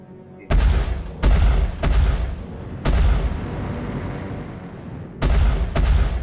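Spaceship weapons firing in Star Citizen Alpha 2.5: five or six loud, punchy blasts in irregular bursts, each with a booming low thump and a decaying tail, heard alone without talk.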